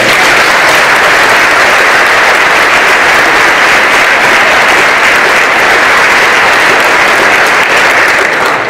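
A seminar audience at the 2015 Mr. Olympia breaks into sustained, loud applause, a dense even wash of clapping lasting throughout without voices.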